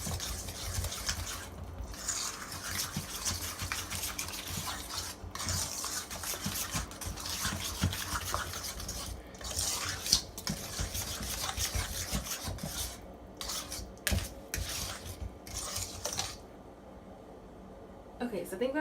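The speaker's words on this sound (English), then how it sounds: "you wanna whisk it together" A whisk scrapes and rasps steadily through cornbread batter in a bowl, a continuous close scratchy stirring with brief pauses, while a person talks over it throughout.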